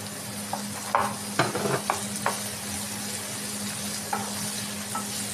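Chana dal fries in a pan of oil while jowar upma is made. A steady close sizzle carries throughout, with scattered scraping and clicking stirring sounds.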